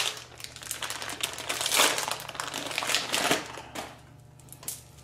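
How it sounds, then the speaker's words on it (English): A small greasy plastic bag holding a go-kart chain master link is ripped open and crinkled by hand, giving close, continuous crackling and rustling with a few sharper crumples, no talking. "Somehow I ripped this greasy little bag."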